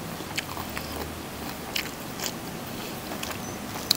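Crunchy beef skin in a Thai Isan-style cassia leaf curry being bitten and chewed, with close, irregular crisp crunches and wet mouth sounds repeating over a few seconds, no talking.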